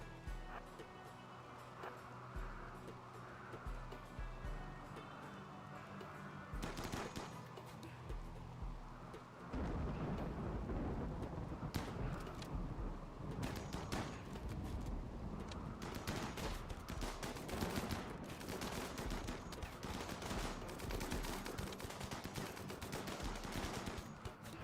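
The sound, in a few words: sniper rifle gunfire in the video game RimWorld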